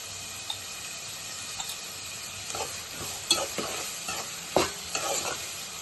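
Chopped onions with salt stirred in a hot pan for egg curry, giving a soft steady sizzle with scraping spoon strokes and a few sharper clinks near the end, close and alone.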